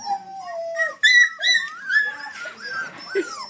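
A mother dog with puppies whimpers and whines in close, high-pitched, wavering cries that rise and fall in quick succession, with a few yips and short howl-like notes.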